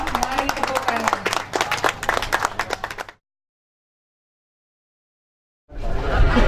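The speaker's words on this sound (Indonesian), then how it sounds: "mari tepuk tangan." A church congregation claps steadily for about three seconds, then silence, before the noisy clapping resumes at the end.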